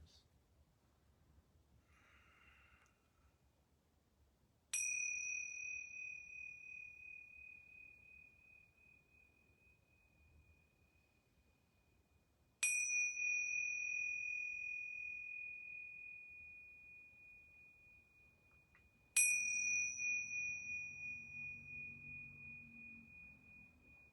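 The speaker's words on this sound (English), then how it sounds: "I'm going to ring these bells 3 times." Small yoga bells ring three times at the close of a yoga class, each a bright, clear strike that hangs and slowly fades over several seconds, spaced well apart in an otherwise quiet room with faint breathing.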